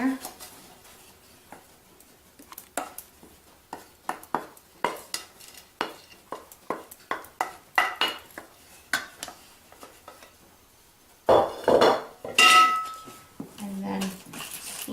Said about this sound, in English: So we have the creamed butter, egg, and sugar here, and we're going to add the flour to it.